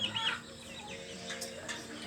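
Chickens and turkeys in a coop at night make soft clucks and chirps close by, over a steady hum of background noise.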